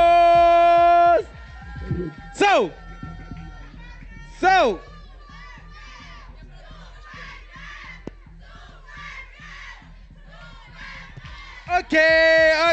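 Live audience at a stage performance cheers, shouts and whoops in loud bursts between musical tones, with crowd chatter and a voice speaking briefly in between.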